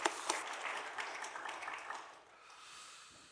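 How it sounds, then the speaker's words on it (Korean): A church congregation at a Wednesday worship service gives an encouraging round of applause for an ordained deacon, soft, distant dense clapping that fades after about two seconds into quieter room sound. "우리 안수집사님을 위해서 한번 격려의 박수님 좋겠습니다."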